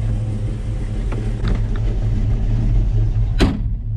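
Engine of a 1949 Chevy 3100 pickup idling and rumbling steadily up close from inside the cab as a ride begins, with a few soft mechanical clicks and a sharp door-like thunk near the end, no talking.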